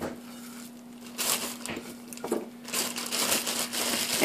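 A plastic bag holding flour and chicken seasoning crinkles and rustles as raw chicken pieces go in, the crumpling growing louder toward the end, close up and without talk.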